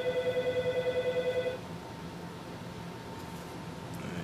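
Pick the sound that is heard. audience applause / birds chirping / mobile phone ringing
mobile phone ringing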